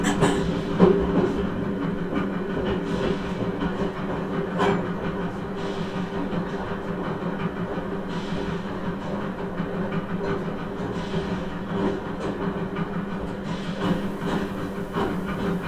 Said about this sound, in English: Gives you the feeling that the train's actually moving.